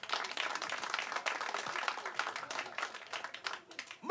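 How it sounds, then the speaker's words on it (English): Audience applause at a live comedy artist showcase, a dense wash of scattered clapping that thins and tapers over a few seconds, fairly quiet and distant, with a voice rising at the very end. "give yourselves a round of applause"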